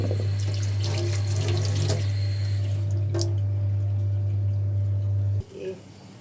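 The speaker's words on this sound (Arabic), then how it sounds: "برضه افضيها في مصفى واسيبها تتصفى" Water gushes steadily from a kitchen tap while cooked okra drains in a strainer, running loudly over a low electrical hum before it cuts off abruptly near the end.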